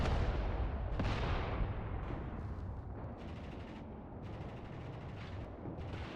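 Sustained rumbling battle gunfire from the World War II strategy game Mius Front, with a sharp report near the start and dense overlapping shots and booms continuing steadily throughout.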